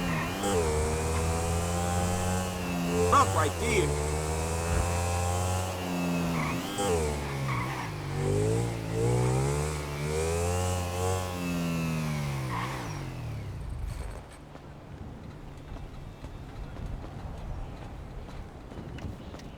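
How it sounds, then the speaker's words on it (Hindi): A motorbike engine in the video game GTA V revs up and down with rising and falling tones as it is ridden, loud and continuous for about thirteen seconds before cutting to quieter background. "तो अब हम बाइक दौड़ा के चलते हैं सबसे पहले उस लोकेशन पर।"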